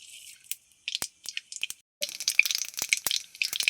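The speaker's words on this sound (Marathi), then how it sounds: "मोहरी छान तडतडली." Mustard seeds crackling in hot oil in a kadhai, a close, quiet burst of rapid, irregular pops and spits with brief gaps between clusters.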